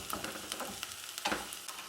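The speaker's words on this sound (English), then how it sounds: "So we are waiting for our onion to just cook a bit." Onion cooking gently in a pan for pizza sauce, a soft, faint sizzle and crackle with scattered pops and a brief stir or scrape, heard alone without talk.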